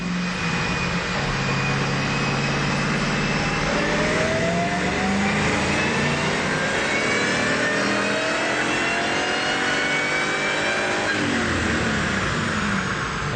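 An 03/04 Mustang Cobra engine revs hard on a dyno with a loud, sustained roar. Its pitch sweeps steadily upward for several seconds before it drops off near the end, with no talking.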